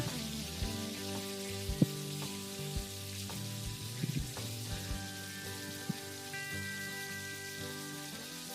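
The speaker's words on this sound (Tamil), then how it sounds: "நீட்ட வாக்கில் கட் பண்ணி வச்சுருக்கிற பெரிய வெங்காயம் 3 எல்லாம் போட்டு நல்லா வதக்கிடுங்க." Three large onions, cut lengthwise, sauté in a pan for rajma pulao, giving a quiet, steady sizzle with a few faint clinks and a low hum underneath.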